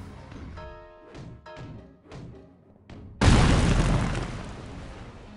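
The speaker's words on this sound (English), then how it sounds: "That was a lot of explosion." A confusion grenade goes off in the Psychonauts game: a few light thuds and taps lead to a sudden loud, broad explosion that rolls on and slowly fades.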